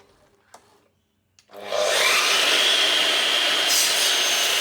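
A Makita LS1219L sliding miter saw with laser, run without its dust bag, cuts camphor laurel timber, rising abruptly after near silence into a loud, sustained, close-up whine and rasp.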